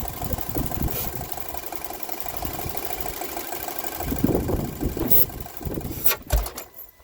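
A Volkswagen Eos engine idles steadily at close range, a low continuous mechanical drone with a few louder bumps and shifts near the end.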